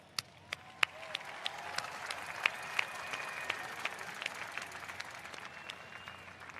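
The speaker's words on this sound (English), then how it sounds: "Let's give them a round of applause." A large crowd applauds at the 25th World Scout Jamboree in 2023. Faint, distant clapping builds from a few sharp individual claps into a steady wash of applause.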